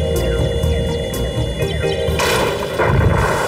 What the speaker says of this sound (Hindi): ये बंदूक कब काम आएगी?